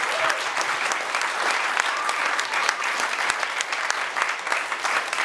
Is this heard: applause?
yes